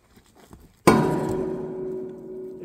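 A single sharp metallic clang from striking a metal power line transformer nearby, ringing out with a long humming resonance that slowly fades.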